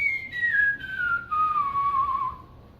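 A person whistles a single clear, sustained tone close up that slides steadily downward in pitch with a couple of brief breaks, then fades out.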